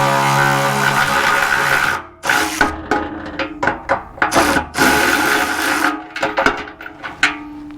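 A Milwaukee M12 Fuel 2557-20 impact wrench on a Toyota runs in a long steady burst, then hammers in several short choppy bursts while removing a bolt, close and loud.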